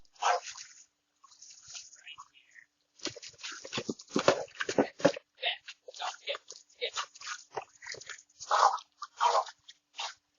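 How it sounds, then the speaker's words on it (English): A dog bites and crunches into a delivery order, with chewing and snapping sounds coming in irregular bursts, close and moderately loud, broken by short pauses. "The dog actually ate the order."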